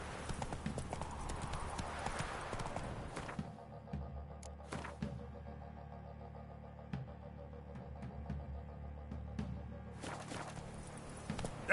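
Roach, Geralt's horse in The Witcher game, clip-clops along with steady hoof beats, busy at first and then easing into a slower, quieter walk, with brief louder knocks and a low steady rumble underneath.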